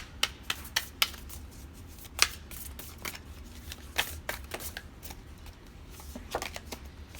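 Oracle cards from a Whispers of Love deck being shuffled close by, with quiet, crisp riffles and light taps in an irregular rhythm over a soft, steady background hum. No one speaks.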